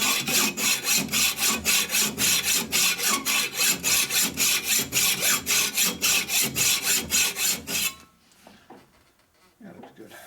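A sander flattens a cylinder stud repair tool part in quick, rhythmic back-and-forth rasping strokes, close and steady for about eight seconds, then stops, leaving quiet.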